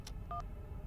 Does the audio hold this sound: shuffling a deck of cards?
no